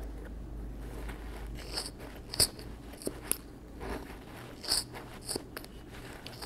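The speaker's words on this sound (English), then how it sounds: "Take some good scissors." A few sharp scissor snips cutting yarn while making a pom-pom, quiet and close, spaced irregularly against a faint low hum.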